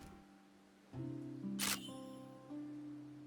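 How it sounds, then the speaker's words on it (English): A camera shutter clicks in the video game Love and Deepspace, one sharp crisp snap in the middle over soft tonal game music. "With the crisp sound of the shutter"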